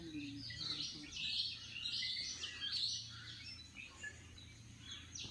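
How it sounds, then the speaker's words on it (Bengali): Many birds chirp and call around the North Bay viewpoint near Port Blair in the Andaman Islands on a foggy day, with overlapping, fairly faint, distant twittering in a quiet outdoor setting. "কত পাখির আওয়াজ"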